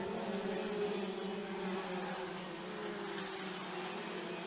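Several 125cc speedway karts race down the back straight of a dirt speedway track, a steady buzzing engine drone held at a constant level throughout with no talk.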